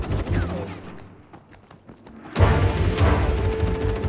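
Shotgun blasts in the VR shooter Crossfire VR, loud and close, with dense booming fire that surges after a brief quieter gap amid game noise.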